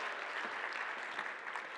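A keynote audience claps steadily together, a dense even patter of applause that holds at the same level for a couple of seconds.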